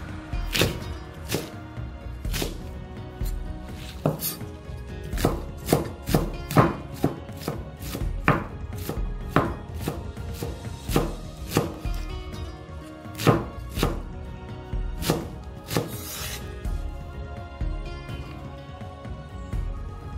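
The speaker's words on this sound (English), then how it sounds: "Let's now chop this cabbage up." Cabbage chopped with a knife on a cutting board for chilli tuna fried rice: a long run of sharp, close blade thunks, sometimes quick and sometimes spaced, loud with no voices.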